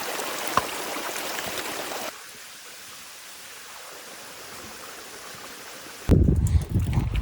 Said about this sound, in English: I can hear a waterfall, flowing water not too far away.